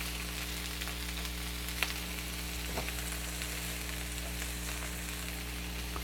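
Strips of fajita beef for an Acapulco skillet sizzle undisturbed in a pan, a soft, even, continuous hiss with a low steady hum beneath and a couple of faint clicks.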